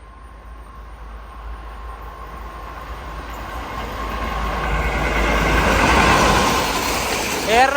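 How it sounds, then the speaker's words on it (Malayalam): Eranad Express running from Thiruvananthapuram Central to Mangaluru Central passes a railway station in Kasaragod district, its rumble growing steadily louder and nearer across the span, ending with a brief high squeal. "ഇതുവഴി ഒരു ട്രെയിൻ കടന്നു പോവുകയാണ്."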